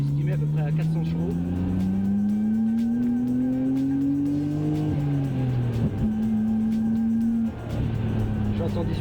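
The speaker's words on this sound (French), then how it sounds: "Skyline GTR R34, estimé à peu près à 400 chevaux." A tuned Nissan Skyline GTR R34 of about 400 horsepower revs and drives nearby, its engine pitch rising steadily then dropping through gear changes, with a voice talking over the loud engine.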